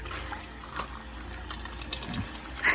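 Water splashing and trickling as a caravan is washed down in the rain in outback Queensland, a soft, close patter of running water with light irregular splashes and no voices.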